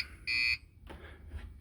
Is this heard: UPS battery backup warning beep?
yes